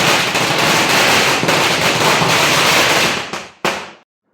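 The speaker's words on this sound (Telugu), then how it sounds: "ఈసారి బాంబుల సౌండ్ అయితే మామూలుగా లేదు" Diwali firecrackers and fireworks crackle and burst in a dense, continuous barrage at a home celebration, loud and close, ending with a couple of sharp separate bangs before stopping.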